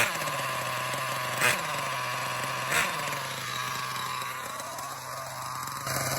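A nitro-powered MTA4 MGT8.0 RC truck engine idles with a steady, buzzing drone, with two brief blips in revs along the way.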